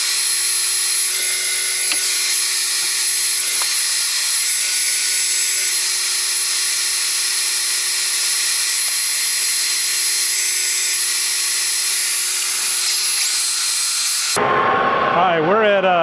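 A metal lathe turns down a Greenlee shaper spindle toward three-quarter inch with a little oil applied, giving a steady, loud machining whine and hum that runs unbroken for about fourteen seconds before the sound abruptly changes.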